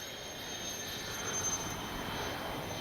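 FMS 70mm Thunderbolt V2 RC jet with a slightly tail-heavy balance, flying at a distance, giving a steady, faint turbine whoosh that holds level throughout with no voices.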